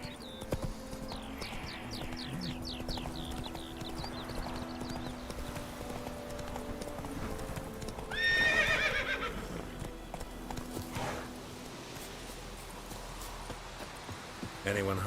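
A horse's hooves clip-clop at a steady walking pace in The Witcher 3, with a whinny partway through and a voice speaking over the hoofbeats.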